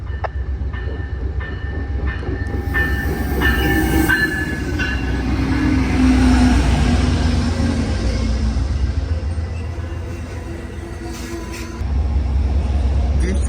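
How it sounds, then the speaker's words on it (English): An Amtrak diesel test train led by a P42 locomotive rumbles past close by, with heavy low engine roar, rattling cars and brief metallic wheel squeals, loud and continuous throughout. "Amtrak test train P942, probably testing the P42 cow car 9702 that's leading the way."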